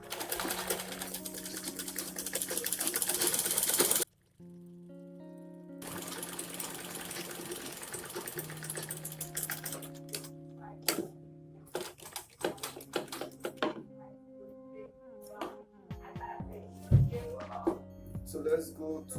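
A sewing machine stitches the lining of a box pouch in a loud, buzzing run that cuts off abruptly, then gives way to a jumble of lighter taps, clicks and handling noise.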